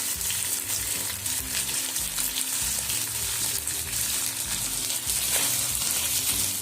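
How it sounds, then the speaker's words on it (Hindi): Finely chopped carrots fry in a pan for a vegetable samosa filling, giving a loud, continuous sizzle with stirring scrapes throughout. "इसको हम हल्का सा फ्राई करेंगे।"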